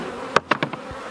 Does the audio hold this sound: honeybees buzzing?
yes